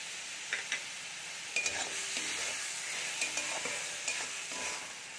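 Turmeric and cumin powder paste mixed with water and a little salt is stirred in a frying pan, giving a steady sizzle broken by scattered spatula scrapes and clicks, close and moderately loud, with no talking.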